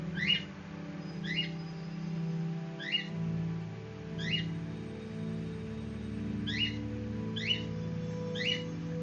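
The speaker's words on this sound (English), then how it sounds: "If you hear bird in the background" A pet bird lets out a series of short, sharp, loud chirping squawks at a fairly regular pace over a low background hum.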